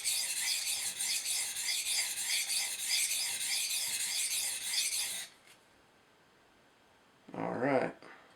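Steady rasping strokes of an ESEE 3 knife blade sharpened freehand on a whetstone, close and continuous for about five seconds, then a pause and a brief burst of a voice speaking.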